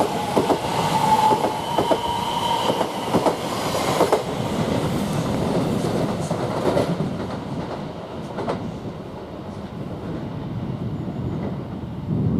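Train rolling through Shenfield railway station, a steady close rumble with wheel clatter and a brief squeal, gradually fading as it passes.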